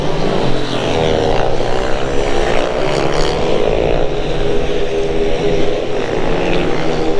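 A speedway motorcycle engine runs steadily at a loud, sustained roar, close by at a practice session on a track, droning continuously with slight pitch wavering and no speech.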